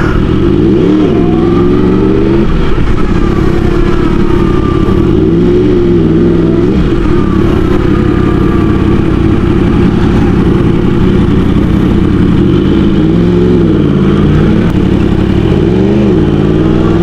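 A tuned motorcycle fitted with a full aftermarket exhaust revs steadily, its loud, continuous engine note swelling and falling in repeated throttle blips with no voices over it.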